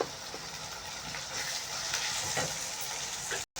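Onions frying in oil until browned, for a chicken gravy: a steady close sizzle and hiss with light crackle, continuous throughout without talk, briefly cut off near the end.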